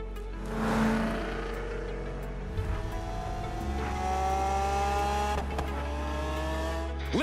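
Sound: cars driving in video game Forza Horizon 3

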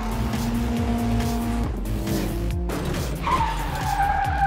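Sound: cartoon race cars skidding in a race

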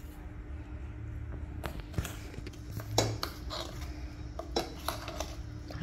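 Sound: ground masala being added to sambhar pot

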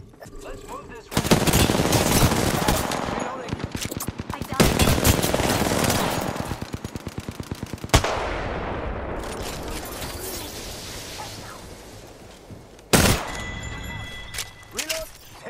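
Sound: gunfire in the video game Apex Legends

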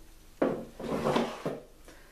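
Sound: drawers of pens being put back together

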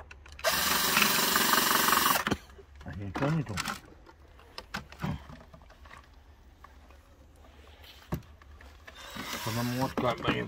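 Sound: power drill driving screws

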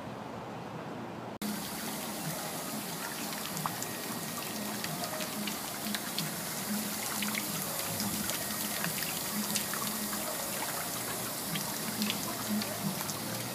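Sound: cascade waterfall in a shopping center

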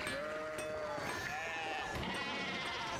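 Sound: sheep bleating in the video game Pentiment

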